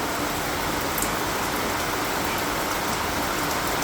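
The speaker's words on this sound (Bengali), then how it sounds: "কি বৃষ্টির আওয়াজ" Steady, dense rain pours over a fairground during a village mela, a continuous close hiss of drops on surfaces with no pauses or voices.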